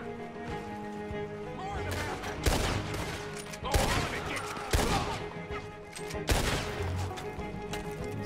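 Gunfire in Red Dead Redemption 2, several loud sharp shots spaced a second or so apart over steady game ambience, with a voice talking underneath.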